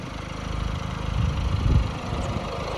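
A 2017 Ford Fiesta Trend Plus engine idling steadily with a low, rumbling hum that swells slightly in the middle, with no voices.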